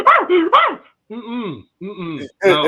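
A person voices gruff, growling barks in imitation of a rapper, a few rough bursts separated by short pauses.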